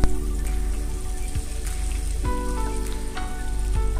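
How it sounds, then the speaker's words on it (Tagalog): Butter sizzles and crackles steadily in a hot, clean frying pan for a breakfast egg and bun, a dense continuous frying hiss with a faint hum underneath and no talking. "sa isang malinis na pan, ayan, mainit na siya guys. So, maglalagay tayo ng butter."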